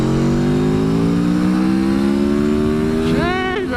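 Aprilia Tuono V4 1100 motorcycle with its 1100cc V4 engine accelerating hard, a loud, close, steadily rising roar that climbs in pitch through the gears, then a quick upshift and a higher-pitched scream near the end.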